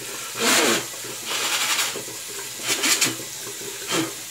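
A OneBlade razor blade is rinsed under a running tap in a few short gushing splashes of water, near and moderately loud, with brief quieter gaps between them and no talking.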